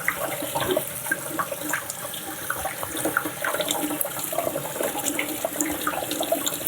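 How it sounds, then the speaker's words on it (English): Tap water runs steadily over hands as sticky pizza dough is washed off at a sink, a continuous close splashing hiss with small irregular spatters throughout. "This all just kind of dissolves off the hands when you run water over it."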